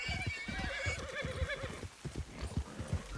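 A horse gallops in the video game Red Dead Redemption 2: rapid, close clip-clopping hoofbeats in a quick rhythm, with a whinny running through the first half and no talking.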